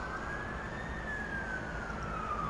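A police siren in the video game Underground wails in a slow rising and falling tone over a steady city hum with transformer buzz, somewhat distant and fairly quiet.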